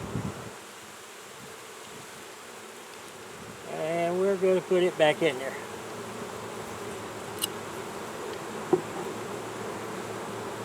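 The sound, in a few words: honey bees buzzing at the hive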